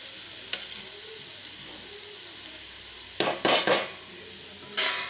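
Beetroot curry frying in a pan, a constant close sizzle with clattering bursts of a utensil scraping and stirring against the pan in the second half.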